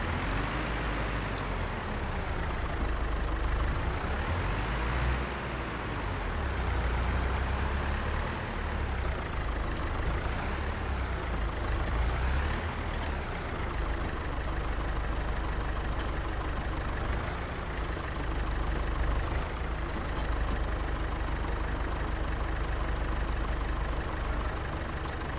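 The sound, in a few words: John Deere-Lanz 710 tractor engine idling, Farming Simulator 22 video game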